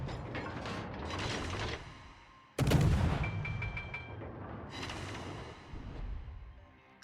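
Akizuki destroyer guns firing in a naval video game: heavy blasts and a sharp burst near the middle, tangled with loud ratcheting, clanking mechanical turret noise throughout.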